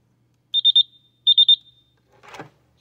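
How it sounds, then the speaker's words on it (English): An automotive short finder beeps as a test light touches an unplugged ignition coil connector terminal: two close, clear bursts of three rapid high beeps, followed by a brief scraping rustle. "the short finder flashes and beeps"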